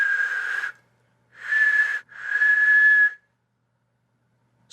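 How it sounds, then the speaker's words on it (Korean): A person whistles outdoors at night in three breathy, wavering bursts, the second two nearly joined. The whistle is close to the listener and separated by short silences. "휘파람을 한번 불어볼게요."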